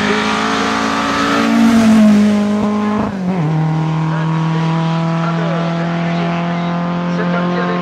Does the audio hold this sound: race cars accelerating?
yes